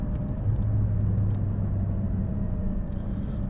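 Porsche GT4 sports car cruising on an empty road in normal mode, a steady low engine rumble with a faint mid-range drone, constant and close from inside the car, with no talking.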